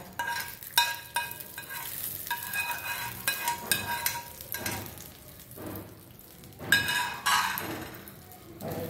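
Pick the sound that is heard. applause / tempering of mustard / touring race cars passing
tempering of mustard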